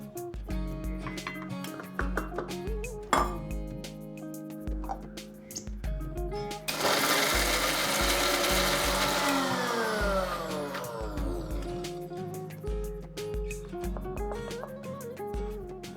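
A grinder whirs in bursts as it blends spices to a smooth, fine paste. Short pulses lead into one long, loud high-pitched run in the middle, then the pulses return.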